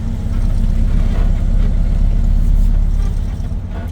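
A 1986 Volkswagen Beetle engine runs while driving, a loud, close, steady low droning rumble with a throbbing texture that holds evenly for the whole stretch without talk.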